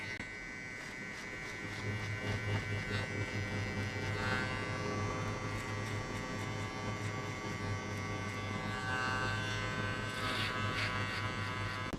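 An electric hair clipper fitted with a zero guard shaves hair below the guideline of a mid skin fade, its steady close buzz running continuously and growing louder after the first couple of seconds.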